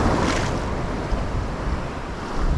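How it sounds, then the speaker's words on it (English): Big sea waves breaking and washing around an angler wading out on the coast, a continuous loud roar of surf with wind buffeting the microphone, close and steady throughout. "there's big waves at the moment, but they're not the same swells"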